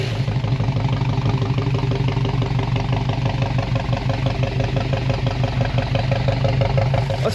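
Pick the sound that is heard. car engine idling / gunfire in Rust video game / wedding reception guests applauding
car engine idling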